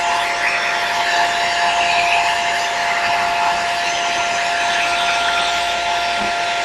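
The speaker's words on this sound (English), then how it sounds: "then take the hair dryer to it" A hair dryer blows steadily and loudly at close range, drying liquid latex applied to a face for Halloween makeup, with a constant whining hum throughout and no talking.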